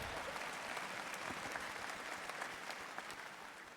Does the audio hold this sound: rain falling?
no